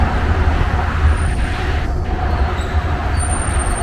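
A Dubai metro train rumbles steadily and loudly throughout, a dense continuous roar with no voices over it.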